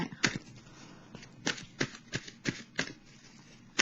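Tarot oracle cards being shuffled by hand, a quiet run of crisp riffling bursts spaced about every third of a second, close and alone with no talk.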